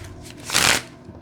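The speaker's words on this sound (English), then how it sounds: "One more shuffle." Playing cards being shuffled up close, one quick riffle that swells into a loud crisp flutter and then stops, with faint room sound before and after.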